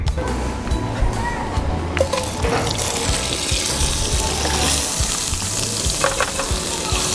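Butter sizzling as it melts in hot olive oil in a pan, a busy crackling fry with occasional clinks and stirring, fairly close and continuous.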